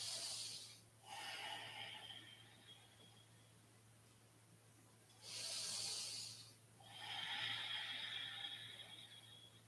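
Slow, deep breathing held in a yoga lunge: a long airy exhale, a quiet pause, then another full exhale and inhale, close and hissy against a low steady hum.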